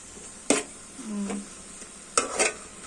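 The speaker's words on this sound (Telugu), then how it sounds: "ఇట్లా కలుపుకోండి" Food being stirred in a frying pan during home cooking, with a couple of scraping spatula strokes against the pan over a soft sizzling background, no talking.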